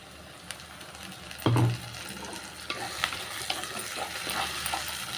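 Onions sauté in a pan for sundakkai kuzhambu, a soft steady sizzle with occasional stirring scrapes and one louder clunk partway through.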